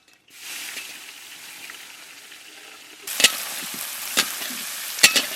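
Onions with bay leaves, cumin and whole garam masala frying in hot oil in a pan outdoors, a steady loud sizzle with sharp scraping stirs near the end.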